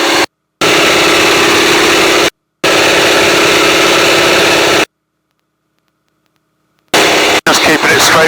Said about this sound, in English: And I'm going up to full power.